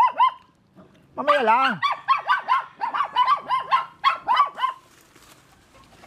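Several dogs bark and yip close by in a home setting, beginning with a whining howl and then going into a quick, rhythmic run of sharp barks, while a person talks briefly.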